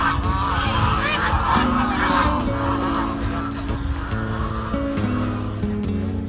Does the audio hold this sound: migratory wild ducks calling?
yes